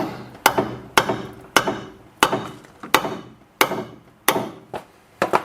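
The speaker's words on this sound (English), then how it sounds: "Quite tight, so hammer will need to be there as well." Repeated sharp metallic hammer strikes on a tight front sway bar link, about nine evenly spaced blows, each ringing briefly and fading before the next, loud and close with no speech.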